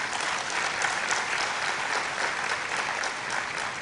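An audience applauding after a lecture on ethical values in a profession, a dense, sustained burst of many hands clapping at even loudness throughout.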